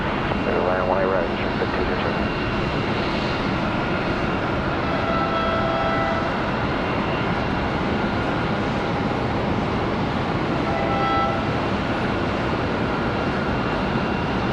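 An Airbus A350-1000 jet at Charlotte Douglas airport gives off a loud, continuous broadband engine roar that holds steady throughout, with faint tonal whines drifting above it.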